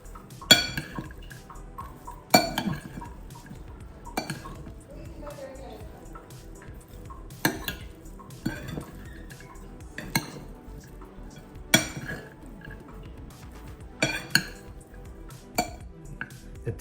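Salad being tossed with cheese in a bowl, giving sharp clinks and scrapes of utensils against the dish at irregular intervals over a low background, with a voice speaking in between.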